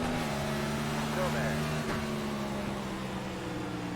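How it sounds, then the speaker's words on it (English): Simulated NASCAR Cup car engine droning steadily alongside in the iRacing game at Richmond, a continuous mid-level hum with faint pitch shifts, under a player's talk. "I hear that dude's car a lot more than mine, just being on the left side of me"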